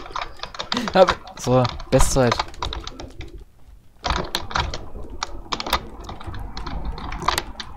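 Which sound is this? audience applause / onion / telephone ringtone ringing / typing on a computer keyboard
typing on a computer keyboard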